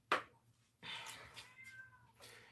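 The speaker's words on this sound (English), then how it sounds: "that is my cat" A cat meows close by, first a short sharp cry and then a longer drawn-out wailing meow that rises and falls, heard alone in a quiet indoor room.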